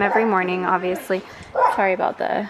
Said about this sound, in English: the neighbor's dogs are kind of barking back and forth